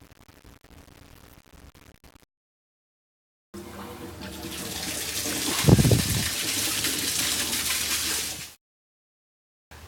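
Water drains from a sprinkler alarm check valve system, a rushing gush that surges loudly in the middle and stops abruptly after a few seconds, following quieter crackling noise.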